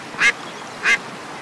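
Two short, clear duck quacks come a fraction of a second apart over a steady outdoor ambience, answering a duck call in the hunting video game Way of the Hunter.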